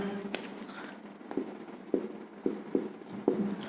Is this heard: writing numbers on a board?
yes